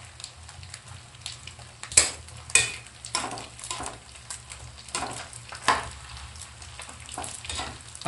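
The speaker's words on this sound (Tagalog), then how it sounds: "Yan, naluluto na po siya." Pansit canton noodles sizzle and fry in a pan while being stirred. A steady frying hiss is broken by several sharp scrapes and clinks of the utensil against the pan.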